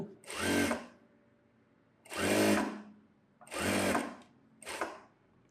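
A sewing machine stitching piping onto a synthetic blouse runs in four separate bursts, each a loud close whirring chatter of about a second, separated by quiet pauses.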